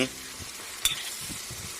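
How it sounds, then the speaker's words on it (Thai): Sliced eggplant stir-fried in a hot pan while cooking fish in a spicy Thai stir-fry, a steady close sizzle with soft scraping stirs and one sharp clank partway through. "ใส่มะเขือลงไป ผัดให้มันเก่ากันอีกเรื่อนึง"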